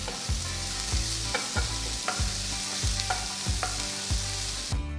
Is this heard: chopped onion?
yes